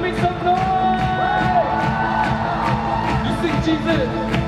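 Worship camp crowd cheering and shouting at a night gathering, a steady loud wash of many voices with scattered whoops and yells throughout, close and continuous.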